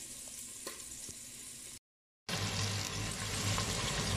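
Rooster thigh pieces sizzle and fry steadily as they brown in a pan, a continuous close crackle with a brief gap of silence partway through.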